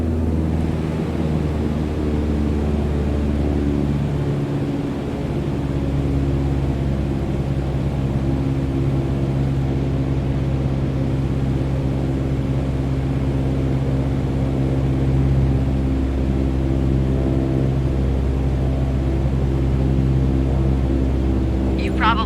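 Steady droning of a small propeller plane's engine held at full power while cruising in Microsoft Flight Simulator 2020, a continuous loud hum with layered harmonics that barely changes throughout.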